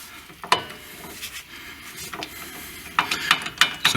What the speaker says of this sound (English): Get my torque wrench.